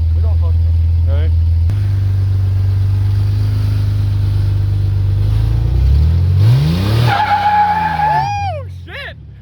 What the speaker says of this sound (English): The only reason why it sounds that good is because there's a giant ass hole in the muffler.